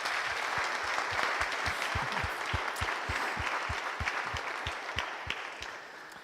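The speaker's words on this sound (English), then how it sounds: "Okay, this is the first demo. Big applause." Audience applause after a demo at a Drupal web development conference talk, a dense burst of clapping from a room of people that holds steady for several seconds, then tapers off slightly.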